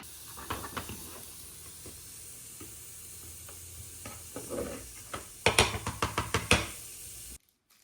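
Carrots stir-fried in a pan, soft sizzling under scattered knocks and scrapes of a utensil, growing into a quick burst of louder clatter before cutting off abruptly.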